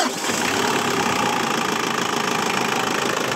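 A Mitsubishi L200 pickup with a camper cell, suspected of an oil leak, restarts and settles into a steady, loud diesel idle with a rhythmic knocking chatter close by, alone without talk.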